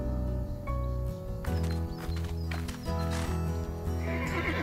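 Horses on a ranch whinny and neigh while hooves clip-clop steadily, close and fairly loud, over a continuous musical backing.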